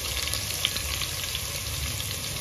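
Garlic sizzles in hot oil for corn sabzi, a steady bright frying crackle with a few small pops, close and alone.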